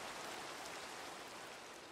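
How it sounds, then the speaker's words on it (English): Steady rain from the video game Minecraft, a dense, even hiss of falling water that holds constant throughout, with no voices or other sounds on top. "I am tired of the rain."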